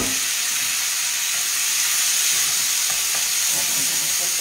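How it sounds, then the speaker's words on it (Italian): Totano squid seared in a hot pan with melted anchovy fillet, sizzling and frying in a loud, steady hiss that holds throughout, no talking. "Mettiamo il nostro totano a cuocere."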